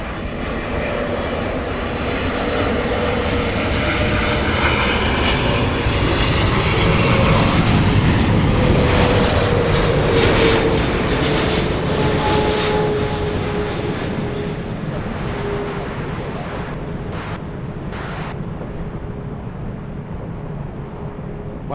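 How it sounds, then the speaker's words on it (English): Embraer E-175 jet airliner on the runway at Los Angeles airport, a loud, steady jet engine roar and rush that swells and then slowly fades as the plane rolls past, with no voices. "just a few more seconds on the runway for the E-175"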